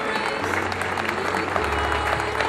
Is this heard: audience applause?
yes